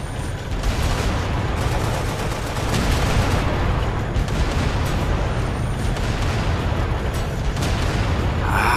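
A double-cannon tank firing in Halo: Spartan Assault, a loud, relentless barrage of booming shots and blasts running without pause, with no speech.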